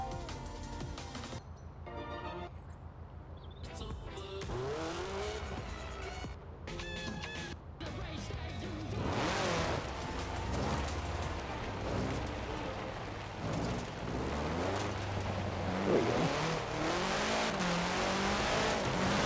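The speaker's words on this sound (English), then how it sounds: "I prefer car noise anyways." In Forza Horizon 4, a car engine hums and revs steadily through a winter off-road race, continuous and moderately loud, with no talk.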